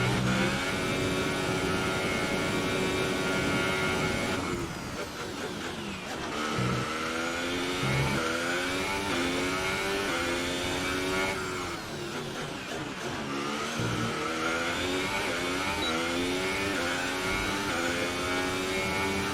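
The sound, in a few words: Formula 1 car engine in a racing video game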